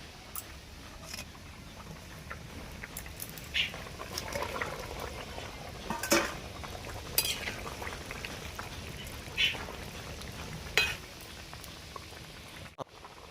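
Singi fish slipped into a simmering potato and papaya broth, a steady close bubbling and spitting with scattered louder plops and splashes throughout, no one speaking.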